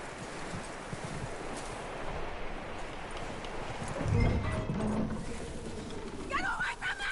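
Horse in a PS4 video game, hooves clopping and a brief whinny over a steady outdoor ambience with faint bird coos, fairly quiet and mid-distance.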